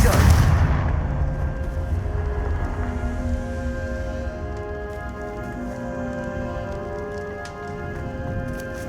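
A Confringo fire spell from Hogwarts Legacy lands in a loud, heavy burst, then a sustained rumbling, ringing tail fades slowly under droning tones.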